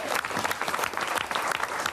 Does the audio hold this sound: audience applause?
yes